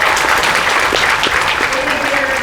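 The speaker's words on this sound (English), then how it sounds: "Give them a round of applause." Applause at a US Air Force basic military training graduation ceremony for the military training instructors: loud, sustained clapping from a large crowd, steady and close throughout, with faint voices mixed in.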